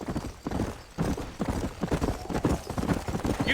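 Horse hooves clip-clop steadily in the Western video game Red Dead Redemption, several horses trotting close by in a continuous rhythmic patter with an occasional faint whinny.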